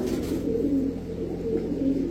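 A black-necked pigeon, one of a pair of high-flyer giribaj pigeons, coos softly in a steady low repeating rhythm, close by and alone with no talk.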